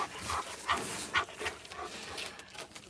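A pet dog pants close to the mic in a few quick breathy bursts, with soft huffs recurring about every half second, fairly quiet and with no talk.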